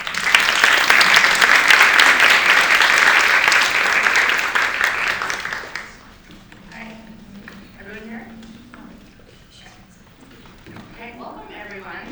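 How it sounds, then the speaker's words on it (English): An audience applauds loudly to welcome panelists at a festival event, dense sustained clapping for about six seconds that then cuts off, followed by a voice speaking over a quiet room. "let's welcome our panelists with a big round of applause"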